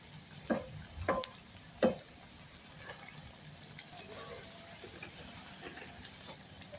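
Onions frying in a pan, a soft steady sizzle with a few sharp clinks of a utensil stirring near the start, quiet and close.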